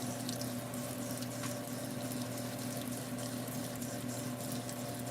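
Running water rinses grits in a bowl, a steady close rushing wash with a faint pump-like hum beneath it and no one speaking.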